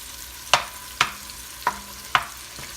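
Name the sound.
meat browning and sizzling in a pan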